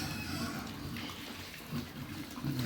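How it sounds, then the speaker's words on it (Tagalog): Running water from a tap or hose gushes steadily close by, a broad hissing wash that softens slightly in places as the flow is turned down, in a native pig feeding area. "Hinaan muna natin tubig at tingnan natin kung paano"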